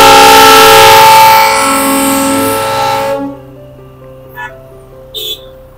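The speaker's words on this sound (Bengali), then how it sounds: "আবার ট্রেন উল্টো পথে ফিরে চলল দার্জিলিং স্টেশনের দিকে" Darjeeling Himalayan Railway toy train at Ghum station, with a loud sustained horn blast and rumbling that cuts off abruptly, leaving a quieter steady hum with a couple of faint short clicks.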